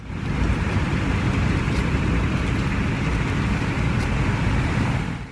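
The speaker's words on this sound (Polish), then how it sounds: "posłuchajcie trochę tego silnika, jak on pięknie mruczy" A truck engine in the video game SnowRunner hums steadily and evenly throughout, a low continuous drone with no voices.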